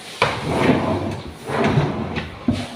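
Drawers slide open and bump shut several times during house cleaning, with sharp wooden knocks at the start, middle and end of a steady rumbling slide.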